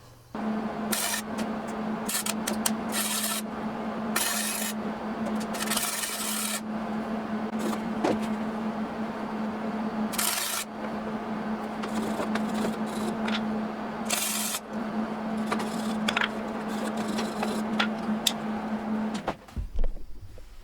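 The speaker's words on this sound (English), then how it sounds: "I'm going to go ahead and weld it there." Flux core wire welding on the rock shaft arms of a John Deere 455 tractor, a steady close crackling buzz with a constant hum, broken by several short pauses between bursts, ending abruptly.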